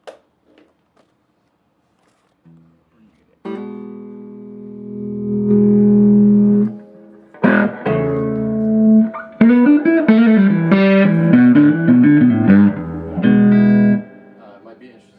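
Electric guitar with a bright Lawler Firebird neck-position pickup, played through a Whippleston Reverb amp set with treble at 5, bass at 3 and a light reverb, rings out in sustained chords and then busier, quicker picked notes.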